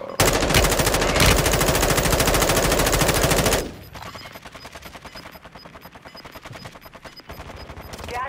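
Sustained automatic weapon fire in a video game, a loud rapid machine-gun stream for several seconds that cuts off, followed by quieter rattling bursts of shots.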